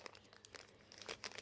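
A small alcohol wipe packet is torn open by hand, a brief run of close, crisp crinkling and ripping bursts at low volume with no talk.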